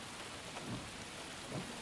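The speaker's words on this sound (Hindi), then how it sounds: "बारिश रुकने का इंतजार कर रही हैं?" Steady rain falls throughout at a moderate, even level, with two low rumbles near the middle and end that may be distant thunder, and no talking.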